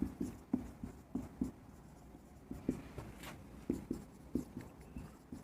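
Pen or marker strokes scratch across a board in short rhythmic bursts while maths notes on divisibility rules are written out, faint and close, about a dozen quick strokes with brief pauses.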